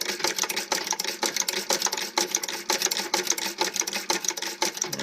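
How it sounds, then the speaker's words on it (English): A Singer 29-4 treadle-powered patcher sewing machine runs at close range, its rapid, even clatter of needle strokes pulsing steadily with no voices over it. "As you can see, the head rotates, allowing you to sew in a circle or get into"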